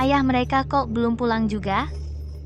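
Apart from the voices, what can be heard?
No everyday noises stand out.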